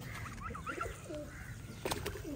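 Soft, low pigeon coos repeat in short rolling phrases, with a brief sharper chirp near the end; no talking.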